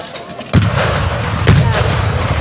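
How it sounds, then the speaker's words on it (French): Booming artillery fire in a war video game, two heavy blasts landing about a second apart over a constant loud rumble of battle noise, with no talk. "l'artillerie est en train de décimer les bandits et les faire reculer"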